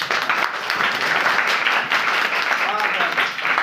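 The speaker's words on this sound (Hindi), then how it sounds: "चल बैठो ताली बजा भाई।" Students in a Hindi grammar class clap together in a lively, continuous patter, close and fairly loud, with voices talking over the clapping.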